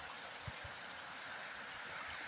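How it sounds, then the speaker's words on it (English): A magnificent waterfall at Uyalla falls makes a steady, fairly faint rushing roar that holds evenly throughout, with a couple of soft low thumps near the start. "they got us here to this magnificent waterfall"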